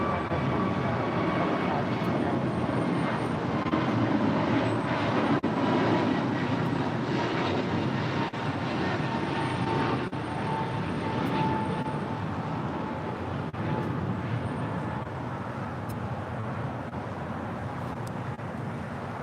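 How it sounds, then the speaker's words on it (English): American 481, an Airbus A321neo, departing LAX for Philadelphia: a sustained, loud jet engine roar with broadband rumble, building slightly then slowly fading as the aircraft climbs away, with faint background noise and no clear talk. "That was American 481 departing to Philadelphia on an A321neo."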